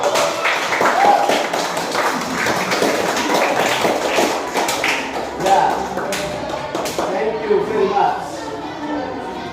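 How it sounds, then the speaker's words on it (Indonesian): A classroom group claps hands together in a dense, steady patter of applause lasting several seconds, mixed with murmured voices and chatter. "mari kita memberikan tepuk tangan untuk kita semua"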